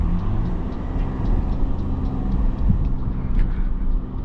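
A straight-piped Lexus IS250 cruising around town, heard from inside as a steady, deep exhaust drone and low rumble that swells slightly at moments, loud and continuous with no talking.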